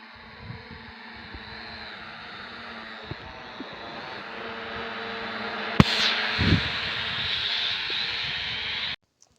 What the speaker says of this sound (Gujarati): હવે અમારા રીવનભાઈ ઉડાડે છે ડ્રોન તમે જોઈ શકો છો